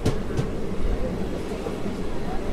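Simhadri Express passenger train running after leaving Duvvada station, heard from inside the coach: a steady rumbling roll with faint rail clicks and a couple of sharp bursts, with a voice talking over it.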